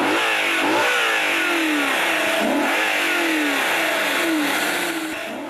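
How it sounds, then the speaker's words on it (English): Naturally aspirated V8 of an Audi RS Avant revving hard and close, the pitch climbing and falling in repeated sweeps of rising revs, loud throughout with no voices. "It has 8 cylinders and no turbocharger, but instead a naturally aspirated engine, which sounds like this."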